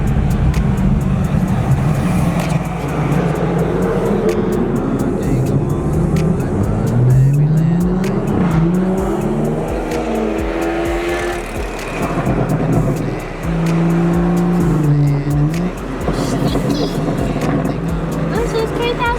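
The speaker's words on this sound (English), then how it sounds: "This is 3000 GT." A Mitsubishi 3000GT engine revs during a night cruise, its pitch sweeping up and down in several pulls while people talk over it.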